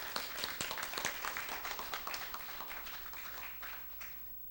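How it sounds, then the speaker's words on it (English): Applause from an audience at a Rhyne Park housing development contract signing, greeting Jamaican Prime Minister Andrew Holness: steady, dense clapping of a crowd, fairly even throughout and tapering slightly at the end, with no talk over it. "Please give him a big round of applause."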